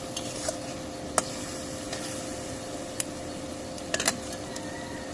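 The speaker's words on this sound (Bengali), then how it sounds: "এখন একটু লাড়া দিয়ে দিব। কষানো হয়নি, আর একটু কষবে।" Drumstick curry simmers with a low sizzle in a pan while a utensil stirs it, giving a few sharp clinks and scrapes at irregular moments over the steady bubbling, close and moderately quiet.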